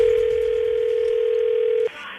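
A telephone dial tone hums as a steady, loud single pitch for nearly two seconds before cutting off abruptly into quieter line noise, heard while placing a prank call.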